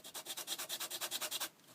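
Rapid back-and-forth sanding of cork, about a dozen rhythmic rasping strokes close by, then it stops.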